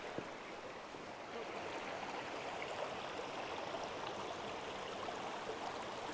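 The Robinson River rushes along Whiteoak Canyon Trail in Shenandoah, a steady broadband wash of flowing water, fairly faint and continuous, with no talking.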